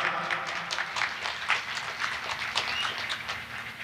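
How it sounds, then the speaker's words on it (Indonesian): At a pre-Christmas community gathering with military and police, the audience claps in a brief, moderately loud burst of scattered hands with an uneven rhythm. "Tepuk tangan karena hebat."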